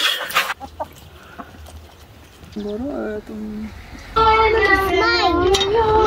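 Chickens clucking nearby in short bursts, growing louder toward the end, with children's voices and household noise around them.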